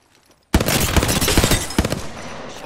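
Loud, close bursts of Hemlok rifle fire in Apex Legends erupt suddenly after a near-silent moment, rapid shots layered with impacts, then trail off into a ringing tail.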